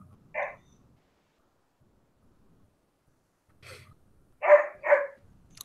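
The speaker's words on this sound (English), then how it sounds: "we can hear them barking" A few short barks from dogs at a distance, one bark, a pause, then a quick cluster of three, with quiet gaps between.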